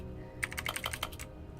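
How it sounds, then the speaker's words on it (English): Quick burst of computer keyboard typing during a Stanley Parable: Ultra Deluxe game, a rapid cluster of crisp clicks that starts and stops within about a second, fairly faint with no voice over it. "It sounds like I'm typing, actually."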